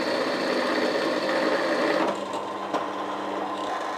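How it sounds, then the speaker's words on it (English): A small drill cuts a countersink into metal in a home model steam engine workshop, a steady high whirring whine that cuts out abruptly about halfway, leaving a quieter motor hum. "So we just put a small countersink in there."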